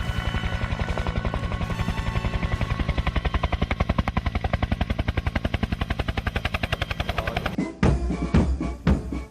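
A military helicopter flies over the Republic Day 2022 parade on Rajpath, its rotor thumping in a rapid, steady, loud beat before cutting off abruptly into scattered bursts of noise near the end.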